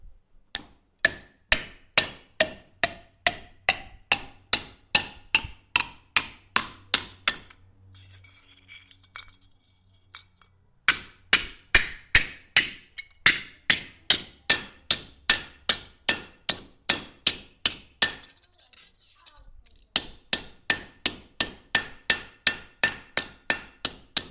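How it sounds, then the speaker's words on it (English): Steady metallic hammer blows flattening copper ring out in regular rhythm, grouped into bursts separated by brief pauses, bright and close with no talking. "Only the finest craftsmen are able to smash this thing flat"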